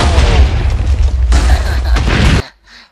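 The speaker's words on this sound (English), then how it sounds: "Fire all the weapons. Fire all of them. Fire all the torpedoes!" Torpedoes fire and explode in a space video game: a loud, sustained roar of booms and blasts that cuts off abruptly, leaving a brief quiet tail.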